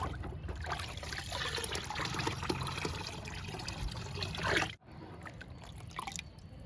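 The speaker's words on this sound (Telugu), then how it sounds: "ఇంక ఇస్తున్నానండి లిక్విడ్ని. దానిమ్మ మొక్కలకి ఇస్తున్నా." Liquid fertilizer made with dissolved jaggery is poured onto pomegranate plants in a steady trickling stream, then briefly stops and resumes more softly, with no talk.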